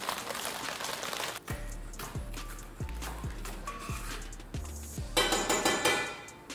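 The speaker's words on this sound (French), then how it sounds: "on va couper les oignons" A knife chops onions on a cutting board, with about eight sharp, evenly paced thuds and clicks in a steady rhythm. The chopping is close and sits over faint kitchen noise and clatter.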